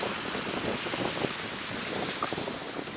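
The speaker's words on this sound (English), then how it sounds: "I apologize because of the wind" Wind gusts roar steadily across the microphone outdoors among canal-side houses in Volendam, a former port town in the Netherlands, forming a constant close blustery rush with no talking.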